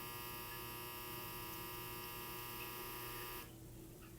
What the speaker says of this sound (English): this dryer is going off in the background there